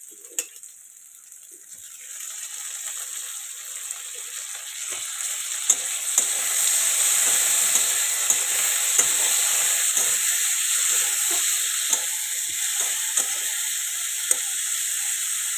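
Salted tomatoes sizzle and hiss steadily in a hot frying pan while a utensil stirs them, with scraping strokes and small clinks repeating close by over the constant frying noise; no one talks.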